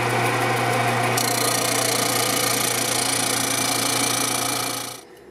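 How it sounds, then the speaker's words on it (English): Disc sander grinding extra wood off a guitar soundboard brace, a steady loud motor whine with abrasive rasp, then spinning down and fading near the end. "take this to the disc sander and sand that extra portion away"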